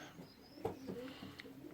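Bonny young pigeons with brown bars and ribbon tails, barely a week weaned, coo softly in a low, intermittent murmur, a few separate soft calls over a quiet background.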